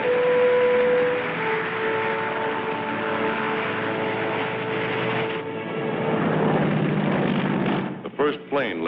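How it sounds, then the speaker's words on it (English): A World War II propeller plane lands on the island airstrip at Tarawa, its engine droning loud and steady before easing off and trailing into a rumble with some thumps at the end. "The first plane landed just 24 hours after the Seabees had started to work."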